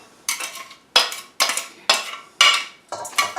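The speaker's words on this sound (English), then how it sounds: "we're going to go ahead and add our roasted garlic" Roasted garlic scraped into a soup pot with a utensil, six distinct scraping strokes about half a second apart, each a bright rasp that quickly fades, close and clear with no talking.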